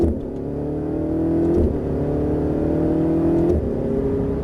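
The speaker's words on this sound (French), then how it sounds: "Progressivement, on débraque et gaz." Ferrari 488 GTB accelerating hard on a race track during a driving course, its engine note rising steadily with one brief dip around a gear change, loud and close from start to finish.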